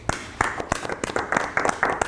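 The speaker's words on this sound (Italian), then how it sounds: "vorrei ricordarlo con un grosso applauso" A short burst of applause, individual claps rising into a quick, uneven patter of several people clapping, fairly close.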